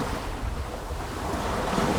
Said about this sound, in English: as you're taking in those natural sounds of the ocean